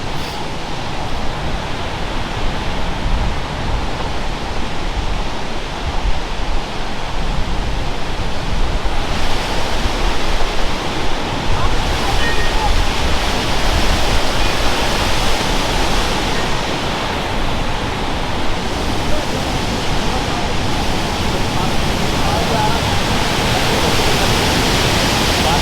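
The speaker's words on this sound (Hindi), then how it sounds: "यहाँ पे पानी की जो आवाज़ है वो बहुत ज़्यादा तेज़ है।" The Saraswati river near Mana village above Badrinath rushes past in a loud, dense roar of churning water, steady and close for the whole stretch, with no voices.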